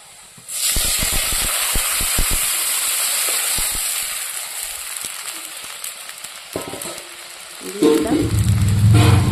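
Mashed potato softened with water hits a pan of frying onions, raising a loud, steady sizzle and hiss that carries on, with a burst of clatter and fresh crackling near the end.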